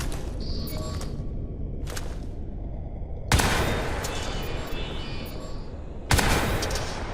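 Automatic weapon fire from the video game Crysis 3 plays in three sustained, loud rattling bursts with brief gaps between them, backed by a steady game background.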